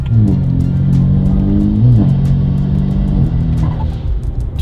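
A stage 3 tuned BMW 335i engine revs hard with a steady low drone, then a brief turbo dump valve whoosh and flutter breaks through near the middle, the motor loud and close throughout.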